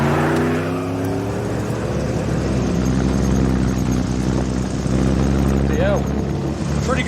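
A pickup truck engine drones loudly and steadily as it climbs steep hills, with a low sustained rumble and some rising engine tones, and occasional voices faintly in the background.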